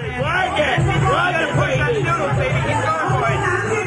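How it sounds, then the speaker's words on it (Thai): A cheering squad at a Korat grilled-chicken eating contest, a crowd babble of rhythmic chants and whoops that stays steady and loud, with voices overlapping throughout. "กองเชียร์ของครูเอ็นก็เชียร์เป็นภาษาฝรั่งแล้วครับ"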